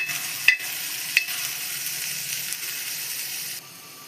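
Chopped vegetables, cabbage and capsicum among them, sizzle steadily in a pan over low gas for a Kolkata chicken roll filling. A spatula gives two sharp scrapes early on, and the frying drops quieter near the end. No voices.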